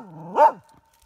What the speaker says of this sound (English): just barks at him.